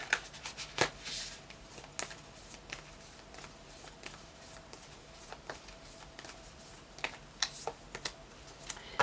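Oracle cards get shuffled by hand, making soft, crisp riffling snaps and taps that come in irregular bursts against a quiet room.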